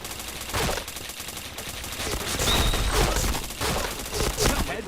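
Shooter video game gunfire rattles in repeated automatic bursts with sharp headshot hits, loud and continuous, while a voice talks faintly underneath.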